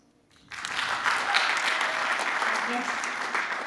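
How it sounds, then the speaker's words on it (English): An audience bursts into applause after a brief quiet moment and keeps up a steady, full round of clapping to the end. "And I want to give a round of applause."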